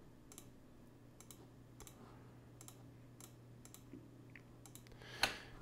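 Computer mouse buttons clicked repeatedly while adjusting faders in a Pro Tools LE mixing session: several soft, sharp clicks at uneven intervals over a faint steady hum, with one slightly louder click near the end and no talking.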